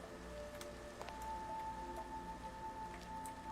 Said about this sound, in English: Of course it would start raining right now.